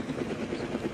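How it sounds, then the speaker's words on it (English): A Kaman K-Max heavy lift firefighting helicopter used for water bucketing in British Columbia thumps steadily with loud, rhythmic rotor beats, close and continuous. "K-Max heavy medium lift helicopter, capable of bucketing 900 gallons at a time."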